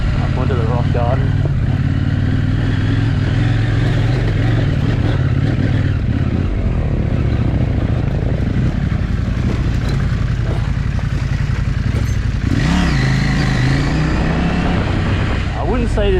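KTM 790 Adventure R motorcycle climbing through a rock garden on a trail: a loud, continuous engine drone with rising revs, clattering over rocks and heavy wind buffeting throughout.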